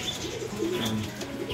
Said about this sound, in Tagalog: Nakamaligo yung mga ibon natin.